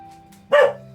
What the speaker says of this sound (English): Please excuse the dog, he's heard a mouse move a pebble.